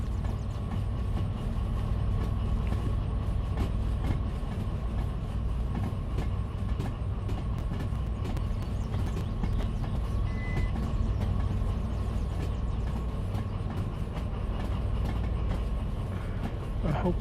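A freight train in the Derail Valley simulator rolls steadily on rails, a continuous low rumble with faint rhythmic clatter and metallic squeals throughout, with no talking.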